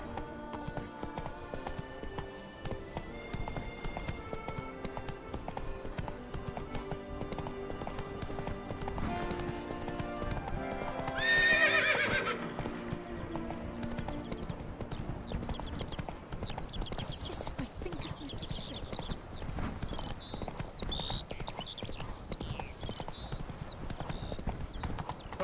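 Roach, a horse in The Witcher 3, trots with steady clip-clop hoofbeats through the whole stretch, a brief whinny rising near the middle over a bed of game music.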